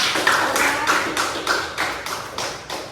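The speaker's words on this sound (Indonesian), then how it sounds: "Kemudian kita beri aplaus bersama" A classroom of students applauds together in rhythmic, fairly even claps that repeat about twice a second, close and moderately loud, with no talking.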